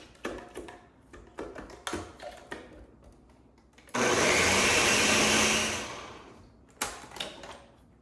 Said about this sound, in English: We're going to give it 1 more blast with the blender